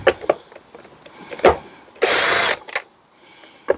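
A power screwdriver fitted with a T20 bit whirs in one short, loud burst while backing a screw out of a Husqvarna Automower robotic lawnmower, with soft handling clicks and knocks before and after.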